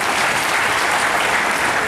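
An audience at a Hindi comedy poetry gathering in Kurukshetra claps continuously, a dense, loud, even wash of applause without pauses.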